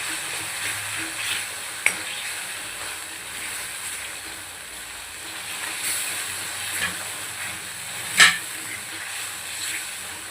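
Crushed green chili sautéing in a hot oil tempering, a continuous moderate sizzle with occasional sharp clinks and scrapes of a spoon against the pan.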